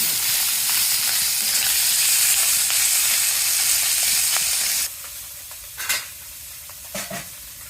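Tengra fish curry with radish cooks in a wok with a loud, steady sizzle and stirring for about five seconds. Then the sizzle cuts off sharply and a few short clatters sound in the quieter stretch that follows.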